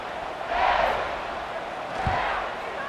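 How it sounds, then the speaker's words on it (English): Crowd buzzing and cheering in a football stadium during an FSU at Miami college game, a broad roar swelling twice, far and diffuse. "this crowd is buzzing after that last score"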